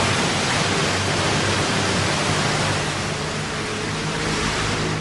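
Ocean waves roll and surge against the shore with the tide, a dense continuous wash of surf that swells slightly and eases back, loud and close, with no voices.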